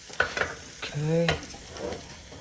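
Garlic frying in a pan for fried rice, a soft sizzle with stirring scrapes, while a voice briefly hums or speaks partway through.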